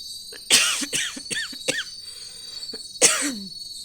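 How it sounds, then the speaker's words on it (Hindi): Several sharp coughs, close and loud, come in quick bursts separated by short pauses, with one final harsh cough after a brief gap. "खांसी भी हो रही बहुत ज़्यादा।"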